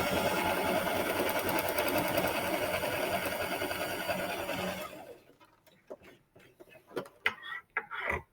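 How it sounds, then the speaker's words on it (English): A sewing machine stitching fabric triangles together runs steadily for about five seconds with a fast, even mechanical chatter, then stops, leaving quiet handling noises and small clicks. "Now, while we're sewing this together, guys, when you start, you're going to do a back stitch or two, okay?"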